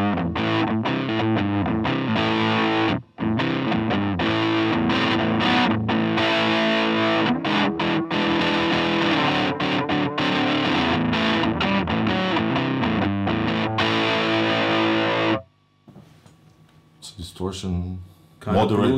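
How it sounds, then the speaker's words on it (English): Electric guitar played through an Ibanez MS10 Metal Charger distortion pedal set to a crunchy tone, a loud continuous stretch of strummed chords with brief pauses, ending in quieter scattered notes. "Crunch to distortion"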